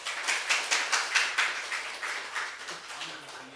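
A church congregation clapping together at a Sunday service, a series of rhythmic claps that start brisk and fade softer toward the end, heard in a reverberant hall without talk.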